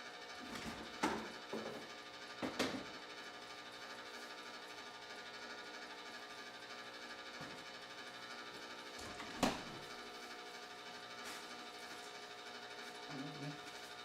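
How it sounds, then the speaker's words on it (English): An ice cream maker churns sea moss ice cream with a faint, steady motor hum, broken by a few soft clicks and knocks from the machine. "I'll show you when this really starts churning a bit."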